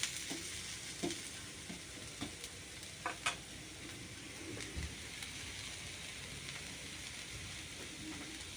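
Yam dosa made with elephant foot yam fries crisply on a pan with a soft, steady sizzle and a few small crackles and taps, faint and with no one speaking.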